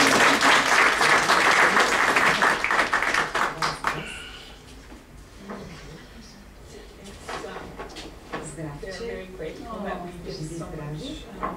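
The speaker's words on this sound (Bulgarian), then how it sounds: "нестихващи аплодисменти" An audience at the 2018 Dorkovo folklore festival applauds loudly for about four seconds before the clapping fades and a voice begins speaking.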